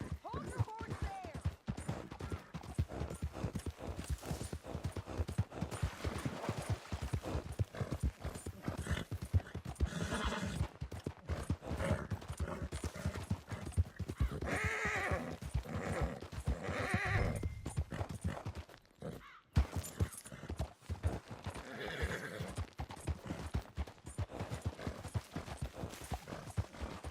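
In the Red Dead Redemption 2 video game, a horse clip-clops in a steady hoof rhythm and whinnies loudly, with clattering and game sounds mixed in and speech heard throughout.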